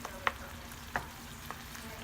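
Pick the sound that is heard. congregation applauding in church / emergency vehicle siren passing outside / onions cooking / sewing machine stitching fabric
onions cooking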